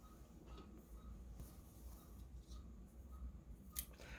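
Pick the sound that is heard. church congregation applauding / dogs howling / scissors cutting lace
scissors cutting lace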